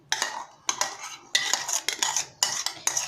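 Spoon stirring mango puree into an ice cream base in a bowl: a series of clinking, scraping strokes in uneven bursts, close and fairly quiet, with no talking.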